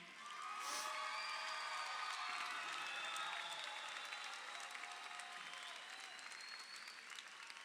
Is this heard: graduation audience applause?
yes